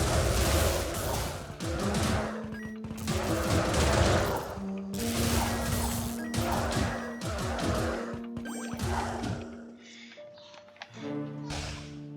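Tracer Barrage spell attacks in the video game Wizard of Legend, a rapid flurry of sharp crackling impacts in repeated waves over sustained tonal game effects, loud and continuous before tapering into lighter chimes.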